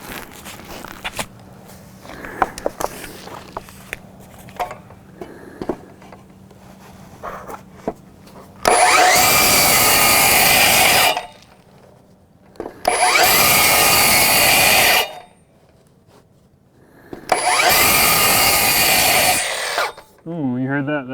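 A power saw cuts a wooden trim board for arched finish carpentry, with three loud, sustained whining cuts separated by short pauses, after quieter workshop handling noises at the start.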